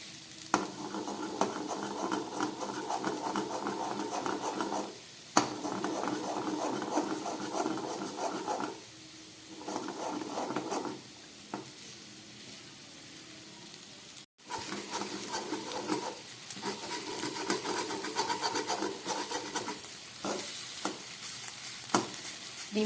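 Beaten egg with chopped green chili and a pinch of black pepper fries in a pan, giving a steady sizzle broken by repeated scraping and stirring strokes, with a brief pause partway through before the frying resumes.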